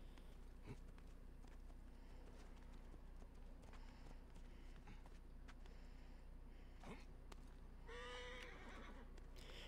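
A horse's hooves clip-clop steadily in Assassin's Creed Origins, with a neigh breaking through near the end amid ambient game sound, with no talk.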